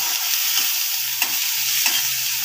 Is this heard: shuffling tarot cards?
no